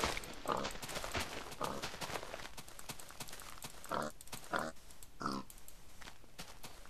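A pig in the video game Minecraft gives several short grunting oinks at irregular intervals, fairly close and loud, with no talk over them.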